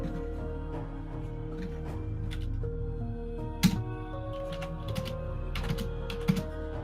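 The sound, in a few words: typing on a computer keyboard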